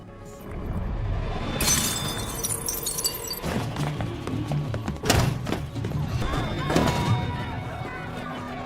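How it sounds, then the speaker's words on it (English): A drinking glass is smashed with a pool cue in a bar, a sharp crack and burst of breaking glass amid a dense, noisy mix of thumps and impacts, fairly loud and close. "Suddenly, Nathan deliberately smashes Stanley's glass with a pool cue"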